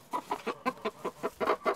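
Laying hens cluck in a rapid, rhythmic series of about ten short clucks, close by and clear, with no talking over them.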